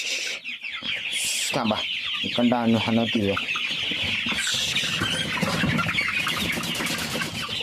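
Broiler chickens on a poultry farm cluck and chirp in a constant crowd noise, with someone speaking briefly over them and a loud nearby squawk partway through.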